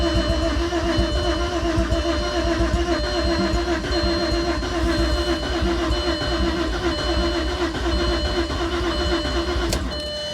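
An Audi A6 Avant Quattro engine cranks continuously on a booster pack, a loud, close, unbroken churning that nearly catches but never settles into a clean idle.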